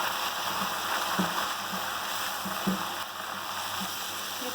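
Half a kilo of boiled beef hits golden-brown fried onions in a karahi, giving a steady close sizzle with a few soft thumps and stirring knocks, no voices.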